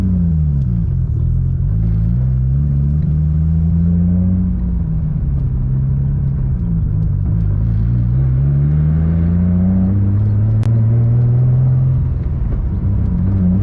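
Boosted Infiniti G35 making 700 wheel horsepower, heard from inside the car as a loud, deep engine drone that rises and falls through repeated rev sweeps and gear changes, steady rumble throughout.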